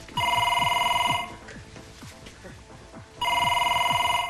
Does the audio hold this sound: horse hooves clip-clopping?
no